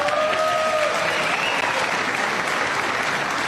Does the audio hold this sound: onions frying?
no